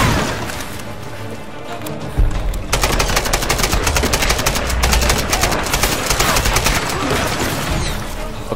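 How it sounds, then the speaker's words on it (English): Enemy gunfire in the Tomb Raider video game: after about two seconds of quieter sound, a loud, dense burst of rapid automatic shots and booms erupts and keeps going without a break until the end. "Stop firing at me!"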